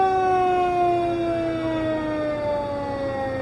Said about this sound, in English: And this is engine 271 from Linda Fire Department.